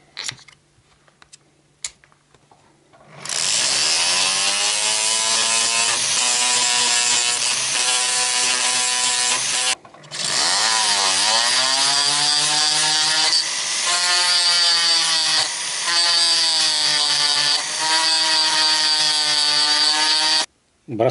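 A power tool sands small wooden pieces for a handmade bracelet, a loud continuous whirring whine that runs for long stretches, briefly stops and restarts, with no talking.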